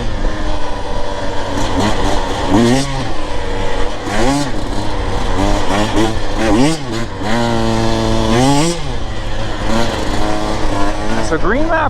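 A Husqvarna TE 150 TBI two-stroke dirt bike engine revs and drops through the gears while riding, rising and falling in repeated loud, close pulls with a rider's voice briefly over it.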